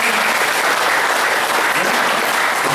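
Loud, dense applause fills a hall during a youth meditation gathering, a continuous roar of many hands clapping close and strong without pause.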